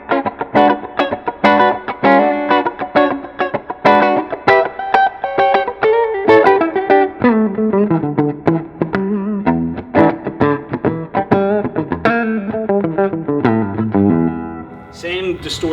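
A Fender Deluxe Nashville Telecaster electric guitar on the middle pickup position plays a distorted, funky rhythm riff with choppy chords and single notes, loud and close, playing alone.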